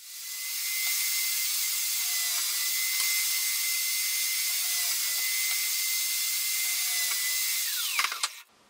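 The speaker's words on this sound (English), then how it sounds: "and I drill the holes for the bolts to pass through." A power drill bores bolt holes through a plywood garden tabletop, a loud steady high whine running almost unbroken for about eight seconds before winding down with a brief clatter at the end.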